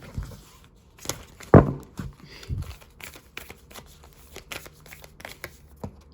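Tarot cards being shuffled by hand, a sharp riffle burst near the start followed by softer scattered card taps and rustles, close by and without talking.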